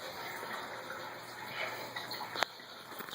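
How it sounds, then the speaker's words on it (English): Water runs steadily through a gutter on a chicken coop, kept flowing to stop the water from freezing, a faint continuous trickle with a small splash near the end. "by having the water run up this way, going in the gutter and then running back down"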